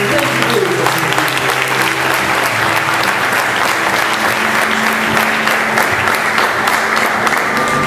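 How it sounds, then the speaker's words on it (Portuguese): A church congregation claps loudly and continuously during a worship service, with voices and shouts mixed into the dense applause. "Aplauda o Senhor."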